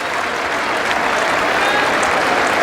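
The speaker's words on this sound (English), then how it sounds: "I see the applause for him" A cricket crowd at an England v India Test match applauds a batsman's innings of 137, a steady, continuous wash of clapping from a large stadium audience, fairly distant and even throughout.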